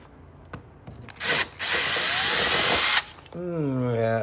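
A Unibit step drill bit bores through the hull of a Proboat Veles 29 RC boat in two loud bursts of whining, grinding power-tool noise, separated by a brief pause; someone talks briefly near the end.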